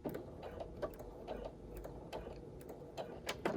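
Home sewing machine stitching a fabric face mask and backstitching over elastic: soft, quiet mechanical whirring with faint ticking needle strokes and a few brief sharper clicks, close by with no voices.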